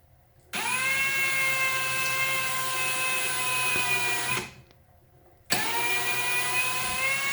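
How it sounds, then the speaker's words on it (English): A cordless drill fitted with a wire brush spins up and whirs steadily for about four seconds, stops briefly, then starts again with the same high, even whine. "using a good old-fashioned trusty cordless drill with a wire brush"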